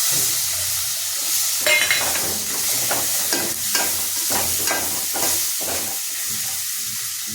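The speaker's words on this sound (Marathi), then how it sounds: "आता याच्यामध्ये आपण टोमॅटो टाकून घ्यायचे." Tomatoes frying with spices in a pan, a continuous sizzle broken by several bursts of scraping and stirring, with no talk.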